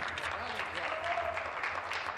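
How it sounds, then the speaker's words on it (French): Sustained applause fills a parliamentary chamber during question period, steady clapping from many people with a voice faintly audible underneath. "Et des applaudissements pour lui."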